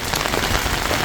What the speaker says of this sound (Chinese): 瞧这水哗哗的，这2天也下大雨呀